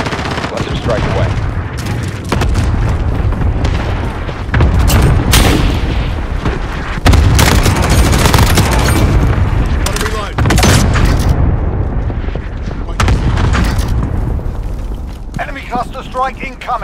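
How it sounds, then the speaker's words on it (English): Cluster strike explosions in Call of Duty, heavy booming blasts and rumbling detonations with scattered gunfire piling up loud and dense, and game voices talking over the barrage. "Cluster strike away."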